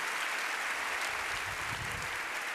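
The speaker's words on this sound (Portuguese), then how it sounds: "Vamos aplaudir" A church congregation at a worship service applauds together, a broad, dense wash of distant clapping that stays steady and fairly faint throughout, with no talking over it.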